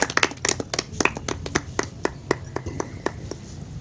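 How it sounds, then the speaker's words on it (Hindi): An audience claps at a spiritual gathering, sharp irregular hand claps, dense at first and then thinning into scattered slaps. "वहाँ पे सभी ताली बजाओ बच्चे के नाम की।"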